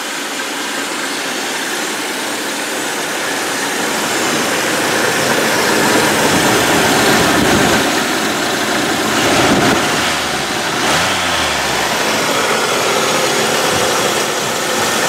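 A 1980 Buick Regal engine runs steadily, a loud continuous rumble and hum close by that holds throughout with slight swells, with no talking.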